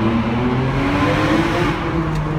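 A Ferrari engine revving steadily inside a tunnel, a loud, continuous near drone with strong low harmonics and no clear separate pop, with no voices.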